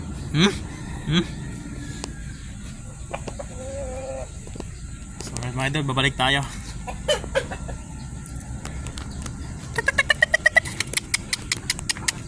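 Shamo gamefowl chickens cluck and call in a farmyard, with someone speaking over parts of it and sharp rapid pecking or clicking sounds near the end.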